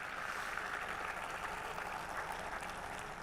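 Steady dense applause from a large crowd at a Kumar Vishwas poetry gathering, a continuous even wash of clapping throughout with no pauses or talk.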